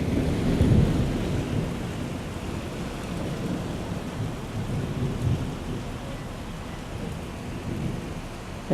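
Thunder rumbles through a spring thunderstorm over Quartu Sant'Elena, following hail and heavy rain, a broad continuous roar with a stronger swell near the start and steady rain beneath, no voices.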